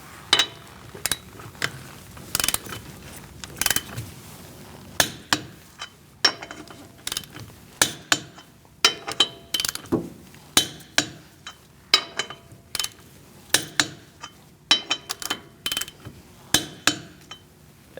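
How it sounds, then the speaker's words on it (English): Torque wrench with a 19mm socket tightening the wheel lug nuts on a 2016-2019 Chevrolet Cruze, heard as a long series of sharp metallic clicks and clinks in quick irregular bursts, close and distinct. "Using a 19mm socket, we're going to torque our wheels to 100 foot-pounds"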